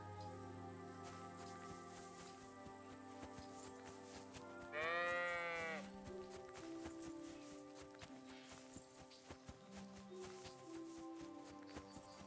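A sheep in the medieval game Kingdom Come: Deliverance 2 gives one clear wavering bleat over a quiet background of soft music and light game ambience.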